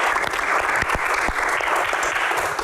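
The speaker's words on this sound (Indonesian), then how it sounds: "Tepuk tangan semangatnya untuk box kali ini." An audience at a Q&A event claps steadily in a dense, moderately loud round of applause, with a few sharper individual claps standing out.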